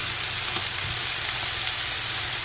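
Tomatoes and onions sizzle in a hot pan beside chicken seekh kebabs, a steady, dense frying hiss that stays loud and constant throughout without any voices.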